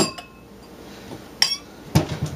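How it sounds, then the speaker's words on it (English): A drinking glass is handled in a kitchen, giving two short, sharp clinks about half a second apart. Soft, quiet handling noise surrounds them. "Okay, so I'm going to get a glass."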